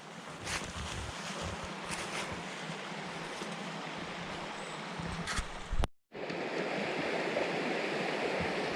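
Steady broadband rush of a wilderness river at a crossing, loud and continuous, with a brief dropout near the end before the roar resumes; no talking.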